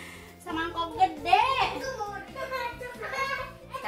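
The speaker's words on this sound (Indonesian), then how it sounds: "Anak-anak pada ribut aja." Children play noisily in the background of a home kitchen while bala-bala fritter batter is prepared in a big bowl, their overlapping shouts and chatter running continuously beneath adult talk.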